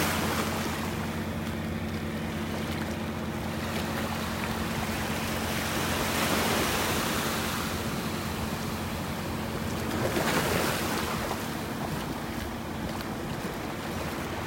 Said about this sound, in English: Look, there's some waves out here.